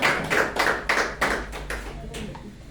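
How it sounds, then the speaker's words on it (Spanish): Church congregation clapping in a strong, rhythmic burst, about a dozen distinct claps in steady time that fade toward the end, with faint voices underneath. "Vamos a dar un fuerte aplauso."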